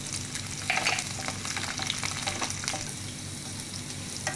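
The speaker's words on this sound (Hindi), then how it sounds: "मैं डालूंगी अदरक, इसको डाल के थोड़ा भूनूंगी।" Ginger and garlic fry in hot oil for onion pickle, a steady close sizzle with occasional stirring scrapes throughout.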